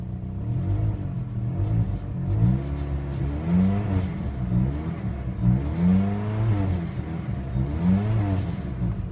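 A 2000 Pontiac Grand Am 2.4 Twin Cam engine with 139,246 miles revs up and down several times in smooth swells, rising and falling in pitch, close by with no talking.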